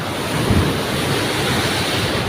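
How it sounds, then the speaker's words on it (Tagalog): Loud, continuous roar of large ocean waves crashing, with heavy wind buffeting the microphone; no voices. "Ang lalaking alon."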